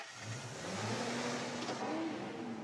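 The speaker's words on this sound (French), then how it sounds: "Je dois ouvrir le capot pour le faire démarrer." An old pickup truck engine, started with its hood open, turns over and revs up and down in a steady mid-pitched roar close by, with no talking over it.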